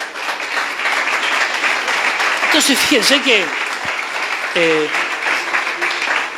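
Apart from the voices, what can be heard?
congregation applause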